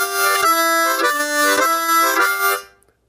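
Harmonica played with the tongue block method in a traditional Chicago blues style, a bright rhythmic vamp of pulsing chords that repeats in even bursts, close and solo, then cutting off sharply.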